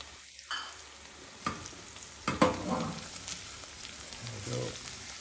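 Parsley fries in garlic-infused oil in a pan for a garlic soup, with a quiet continuous sizzle and a few utensil taps and stirring scrapes, close and faint, without talk.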